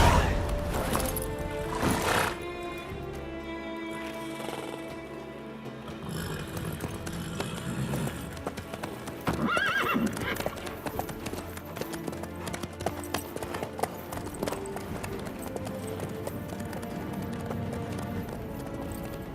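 A horse gallops in The Witcher 3 with steady clip-clop hoofbeats, mixed with game music and ambient sound, and no talk during the stretch.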